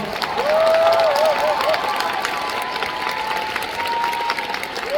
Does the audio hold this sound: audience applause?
yes